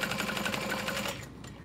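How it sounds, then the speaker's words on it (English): A sewing machine stitching the upper fabric panels of a messenger bag at a half-inch seam: a steady, fast mechanical whirring and chattering, close up, that winds down and stops near the end. "I'm just gonna lay those together, sew it at a 1/2 inch seam allowance,"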